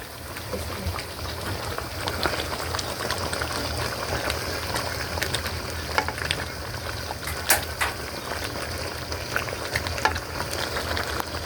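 String beans and cabbage are cooking in a pan, giving a continuous dense frying crackle with occasional sharper pops and stirring clinks throughout.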